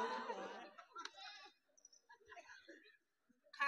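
A goat bleats in a few short, wavering calls among other voices, with a burst of louder bleating at the start and a brief cry again at the end.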